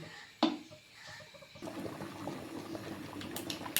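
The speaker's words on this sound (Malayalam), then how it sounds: "അങ്ങനെ നല്ലതായിട്ട് കറി തിളച്ച് വന്നിട്ടുണ്ട്." A green peas curry made with ground coconut and no coconut milk boils in a pot, with soft bubbling after an early clink that grows into a fuller, steady simmer partway through, quiet and close.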